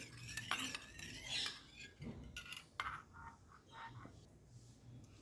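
A spoon stirs milk and sugar powder in a bowl for chocolate date peda, making soft, quiet scraping and tapping clinks at an uneven pace, close up.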